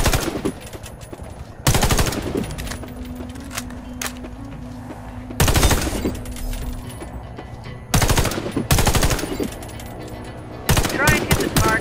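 Rifle fire at training targets in Warface, arriving as several loud, close bursts of rapid automatic shots separated by short pauses, with a faint tone between bursts and no talking.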